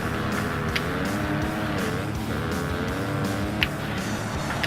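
A dirt bike engine in the Monster Energy Supercross game drones steadily, its pitch rising and falling as the throttle works, with a couple of faint clicks and no speech over it.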